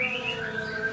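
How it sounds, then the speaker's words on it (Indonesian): Tame sooty-headed bulbul chirping nearby, a quick run of bright sweeping notes heard alone over a soft background. "Ini ketilang, Pak. Ketilang jinak tuh."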